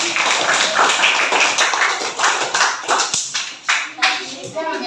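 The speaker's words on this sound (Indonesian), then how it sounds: "Tepuk tangan untuk kelompok B." Schoolchildren in a classroom clap for a student group, loud and close, with separate uneven bursts of hands rather than a smooth roar, and voices heard among the claps.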